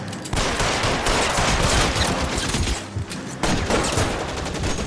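Gunfire in L.A. Noire, the detective game set in 1940s Los Angeles: a sustained, loud exchange of rapid shots and bursts that runs almost without a break, briefly dipping near the end before another volley.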